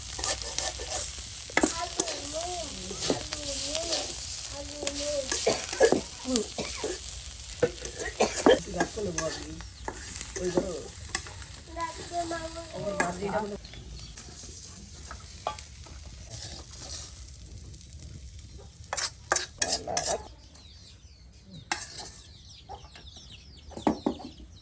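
Eggs frying and being stirred in a pan during village cooking on a rainy day. Sizzling and the scrape of a utensil come in bursts, with chickens clucking in the background and a brief pause in the middle.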